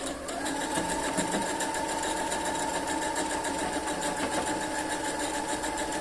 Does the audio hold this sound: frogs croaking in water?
no